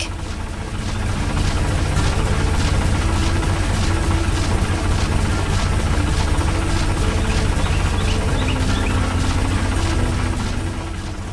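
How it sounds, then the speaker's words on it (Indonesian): Heavy factory conveyor machinery runs steadily with a dense low mechanical drone and vibration, loud and continuous throughout with no talking. "Di pabrik yang sibuk, conveyor belt bergerak cepat membawa barang ke berbagai sudut. Suara mesin dan gerakan yang dinamis."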